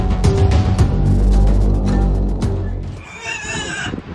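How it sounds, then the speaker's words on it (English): Horses in a stall whinny and scream loudly in repeated, overlapping calls, close by, followed by a shorter high neigh near the end. "Stella and Stanley are having a fit because I'm not in the stall with them. So listen to them screaming."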